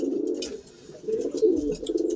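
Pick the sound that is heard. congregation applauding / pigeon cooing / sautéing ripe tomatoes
pigeon cooing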